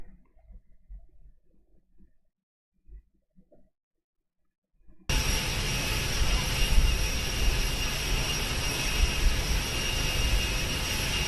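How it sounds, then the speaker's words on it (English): A jet, Air Force One, roars over the Daytona 500 race: after a few seconds of near silence a loud, steady broadband rush bursts in and holds at full strength to the end, with no talk. "U.S. taxpayer dollars paying for these flybys in Air Force One."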